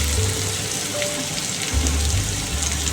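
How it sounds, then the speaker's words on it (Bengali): Potatoes and onions fry in a pan of hot oil with a steady, close sizzling hiss, over a low rumble that cuts in and out. "আলুটা পেঁয়াজটা মোটামুটি আমার ভাজা হয়ে গেছে"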